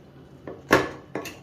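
A hot springform ring is lifted off a baked Kazakh shah dish, giving two sharp metallic clanks a moment apart, the second softer, close and loud with no talking.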